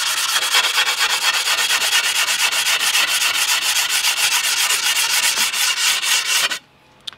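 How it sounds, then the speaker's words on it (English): A 100 to 150 grit diamond rub stone is worked back and forth over chipped tile edges, giving a steady, close, gritty scraping in quick repeated strokes that stops abruptly near the end. "This is a diamond rub stone. I think this is 100 grit, 150 grit. It'll help smooth out those chips."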